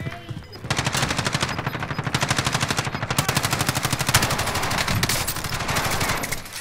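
Sustained machine gun fire from the Call of Duty Warzone video game, heard as dense, rapid automatic bursts that run almost without pause across the clip, loud and close, with brief gaps between volleys.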